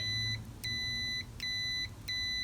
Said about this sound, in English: now I've hooked it up to the continuity meter off the 2 terminals on the back, and if I press the 2 contacts together